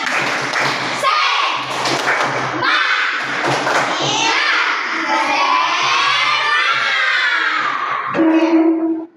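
Schoolchildren in a classroom perform a rhythmic spirit clap chant, loud shouted syllables and patterned claps in unison with thumping beats, ending in a rising collective cheer.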